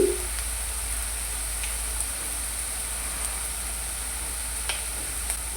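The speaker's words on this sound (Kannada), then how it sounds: "ಇವೆರಡನ್ನೂ ನಾವು ಚೆನ್ನಾಗಿ ಫ್ರೈ ಮಾಡಬೇಕು ನೋಡಿ" Vegetables frying in a pan for an okra gravy: a steady, even sizzling hiss heard close throughout, with a few faint ticks and light taps.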